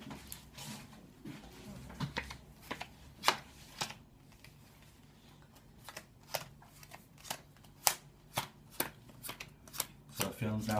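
Playing cards being placed down into four piles during a card magic performance, a series of soft, sharp taps and slides spaced irregularly at close range, with quiet room tone between.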